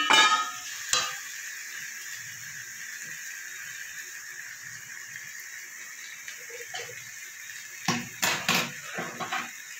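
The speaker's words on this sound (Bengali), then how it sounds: "এবার আমি ভেজে রাখা আলু আর পটলগুলো দিয়ে দেবো।" Fried potatoes and pointed gourd go into a pan of spices for aloo potol kosha, with sharp metal spoon-and-pan clanks near the start and a cluster near the end, a faint sizzle in between and no talking.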